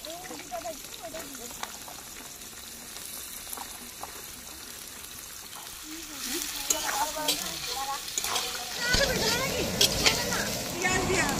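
Sliced onions frying in hot oil in a pan over a gas flame for a large home-cooked meal, a soft sizzle that grows louder and busier partway through, with faint voices and kitchen sounds in the background.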